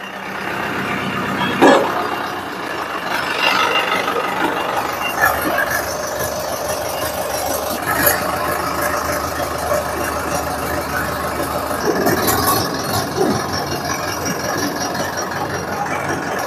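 A Zetor 5511 tractor engine that had stood unused for three months runs steadily after a hand-crank start, a loud continuous diesel chugging and rattle with occasional clanks.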